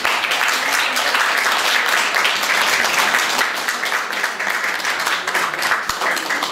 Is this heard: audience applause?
yes